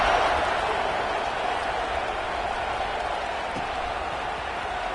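Stadium crowd in the College Football 26 video game, a steady, distant roar of massed spectators sustained evenly throughout without distinct cheers or peaks.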